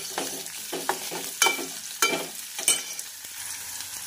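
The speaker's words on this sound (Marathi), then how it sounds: "आपला कांदा छानपैकी गुलाबी रंगावर परतून झालेला आहे" Onion sautéing in a pan until pink, with a soft continuous sizzle broken by a series of scraping stirring strokes every half second or so, close up.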